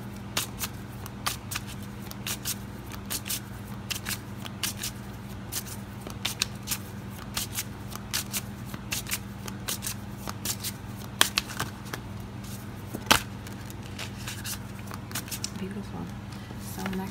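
Tarot cards being shuffled, repeated soft riffling clicks and flicks across a long stretch, fairly quiet, with a steady hum underneath.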